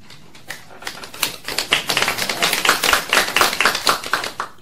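An audience at a university seminar breaks into applause, a dense patter of many hands clapping that swells after a quiet start and holds steady throughout, with no talk over it.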